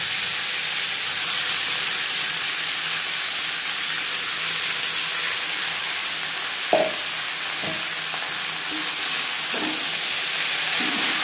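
Radish greens stirred into hot oil with whole cumin and chili give a steady broad sizzle and hiss, punctuated by a few soft scraping stirs near the middle.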